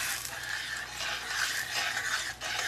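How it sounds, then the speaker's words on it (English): A spoon stirs Marsala sauce with chicken stock in a pan, giving a steady scraping, swishing sound with faint sizzling underneath, continuous and close with no voices. "we're going to stir that in"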